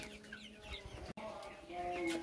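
Chickens cluck softly in a poultry shed during hot weather, a few faint, scattered calls under low background noise.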